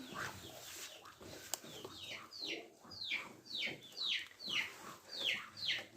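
A duck quacks repeatedly in a steady rhythm, roughly twice a second, nearby and fairly loud, with faint farmyard background.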